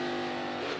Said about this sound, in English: There's his downshift.